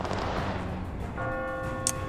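A church bell in The Last Haven video game strikes once partway through, leaving a ringing tone that lingers over rumbling game ambience.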